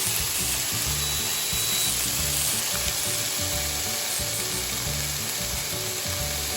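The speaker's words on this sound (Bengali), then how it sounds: "তৈরি হয়ে গেছে আমার নোটে শাক ভাজা, চটপটে নোটে শাক ভাজা।" Amaranth greens fry in a pan with a loud, dense, continuous sizzle and crackle, heard up close with no voices.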